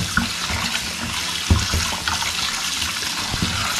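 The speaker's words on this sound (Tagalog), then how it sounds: "Bababad natin sa malamig na tubig itong ating laman loob para mahiwa na natin." Running cold water pours steadily from a tap into a basin for soaking pig offal, a constant splashing wash with a few small knocks and clinks close by.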